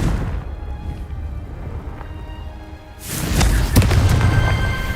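A Confringo blasting spell explodes in the Hogwarts Legacy video game: a loud, broadband burst erupts after a few seconds of quieter game ambience and rumbles on to the end, with a sharp crack partway through.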